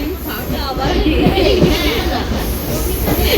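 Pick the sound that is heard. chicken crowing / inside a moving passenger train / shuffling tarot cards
inside a moving passenger train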